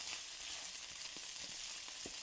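Vegetables sauté in a pan with a continuous hissing sizzle, faint and steady, dotted with a few soft stirring taps and no talk.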